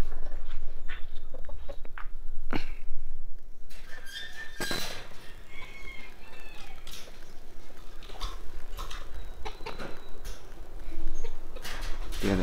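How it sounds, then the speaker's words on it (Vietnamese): Bantam chickens cluck and call in a morning yard, eager to be fed, with scattered sharp clucks and short calls over steady outdoor background noise. "Kia là chú gà tre của mình cũng háo hức đòi ăn sáng lắm."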